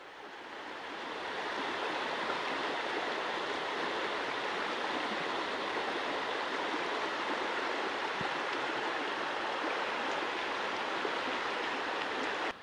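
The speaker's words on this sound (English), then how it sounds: "We got the brook, you can probably see from there." A brook swollen after days of rain rushes steadily, a dense continuous water roar heard from a short distance, with no talk.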